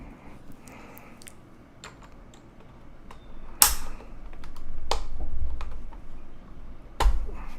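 Scattered taps and clicks from a mechanical keyboard fitted with keycaps, close by, with a sharper clack near the middle and another near the end over a low background rumble.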